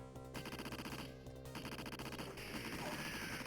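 Rapid full-auto machine-gun fire in the 1989 arcade video game Dynamite Duke, a steady rattling stream of evenly spaced shots mixed with game music and effects, with no talking.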